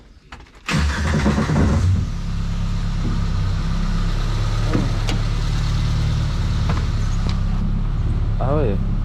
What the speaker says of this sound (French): Je vais essayer de le démarrer, on va voir comment la direction elle est.